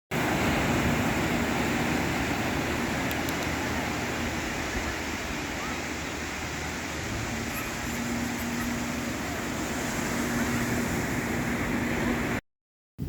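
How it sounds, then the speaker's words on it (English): Ocean waves break against the shore in a constant, loud, broadband roar, with some wind buffeting the microphone and no distinct individual crashes, before the sound cuts out briefly near the end. "The crashing waves against the shore"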